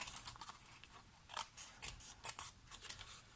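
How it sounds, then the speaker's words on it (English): Scissors snip away the sides of a card layer while making a handmade greeting card, giving a quick series of close, crisp cuts in an uneven rhythm. "All I need to do now is cut away all of the sides of this"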